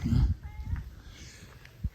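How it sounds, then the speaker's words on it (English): A cat following someone on foot outdoors gives a short, soft, meow-like call amid low rustling and thumps, fairly close. "there's a cat following me"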